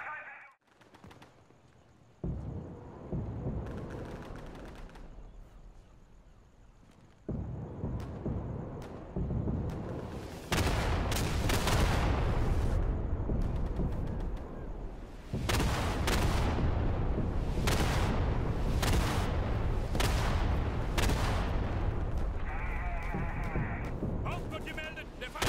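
Artillery in the Day of Infamy video game lands in repeated heavy, booming blasts that roll into each other. Shorter separate impacts come first, then a long sustained barrage, with a voice speaking briefly.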